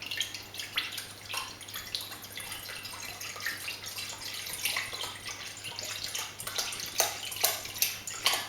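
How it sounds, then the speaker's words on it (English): Ribena blackcurrant juice poured into a container for homemade wine, a soft continuous splashing trickle with scattered drips and light knocks, fairly quiet and steady, no voices. "Right, just pour in the Ribena."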